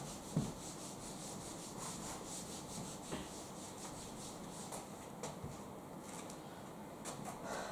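Writing is rubbed out on a board with a soft, continuous scrubbing sound, fairly faint and steady throughout, with a few light knocks.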